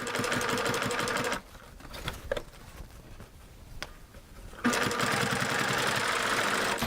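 A serger sewing machine stitches a garment neckline, running steadily and loud for over a second, pausing for about three seconds of quieter handling noise, then whirring again at full speed to the end.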